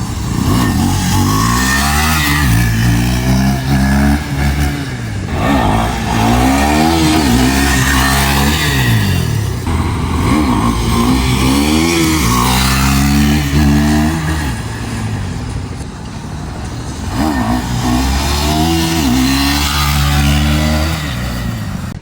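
A Yamaha R15 V4 motorcycle fitted with a loud aftermarket exhaust revs hard and repeatedly during wheelie practice, a close, continuous, droning engine note that rises and falls in long surges.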